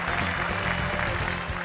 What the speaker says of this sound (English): when the XUV 500 finally came on stage, there was all-round applause